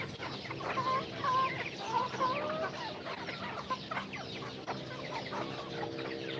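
Buff Orpington, Rhode Island and native chickens cluck at feeding time, a busy flock of overlapping clucks and short calls, moderately close, with steady farmyard background.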